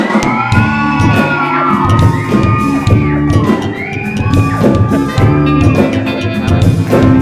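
A live studio crowd at a late-night Thai singing-competition show screams, shouts and whoops loudly in continuous waves, with high-pitched shrieks rising over the roar.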